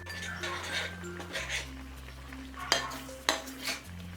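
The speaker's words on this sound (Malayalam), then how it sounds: "പനീർ പൊടിഞ്ഞു പോവാതെ ഇതൊന്ന് ഇളക്കി കൊടുക്കണം." Paneer korma gently stirred in a pan, soft scrapes and a couple of sharper clinks of the spoon against metal, close and quiet over a low hum.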